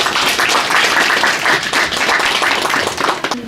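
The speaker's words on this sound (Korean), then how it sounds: "큰 박수 부탁드리겠습니다" Steady applause from an academic conference audience, many hands clapping together loudly and continuously before the sound stops abruptly at the end.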